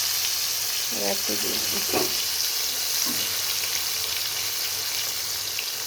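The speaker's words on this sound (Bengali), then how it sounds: "অল্প অল্প করে কিন্তু ভাজতে হবে" Bitter gourd chips frying in hot oil, with a steady bright sizzle throughout, close, while someone speaks briefly over it.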